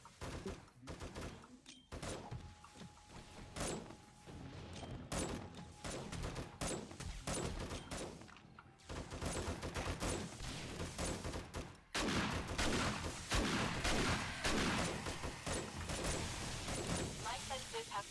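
Irregular gunshots and shotgun blasts in 7 Days to Die at a fortified mansion base, sharp close cracks scattered over a steady rumble, with people talking throughout.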